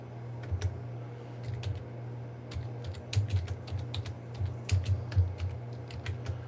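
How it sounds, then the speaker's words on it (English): Computer keyboard typing during a guitar theory lesson, a run of quiet, irregular key clicks over a steady low hum, with brief clusters of faster strokes. "So I'm going to type that down here too."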